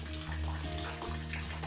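Water flowing from an outlet pipe down into a tank at a rural water point in Africa, a steady, rushing gush with a low hum beneath, constant and close for the whole short stretch.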